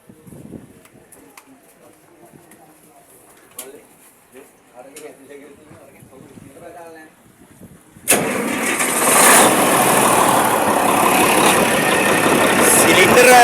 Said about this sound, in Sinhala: සිලින්ඩර් 6 එන්ජින් එකක් තියෙන්නේ වැලි පොම්පේ අදින්න